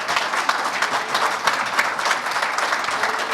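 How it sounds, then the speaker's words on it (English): Dense applause from the audience at a Harrisburg public works awards ceremony, many hands clapping in a continuous, fairly loud roar that holds steady for over three seconds. "So I want you to give her a round of applause,"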